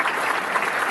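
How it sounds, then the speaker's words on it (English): An audience at a business diversity outreach event applauds, a brief burst of dense, steady clapping from many hands. "If you could give her a round of applause."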